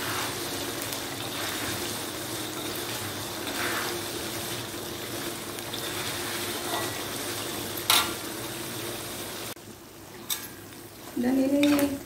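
Grated coconut frying in a pan for ayam serundeng, stirred until it browns: a faint, steady sizzling hiss throughout, with a couple of brief scraping stir strokes near the end.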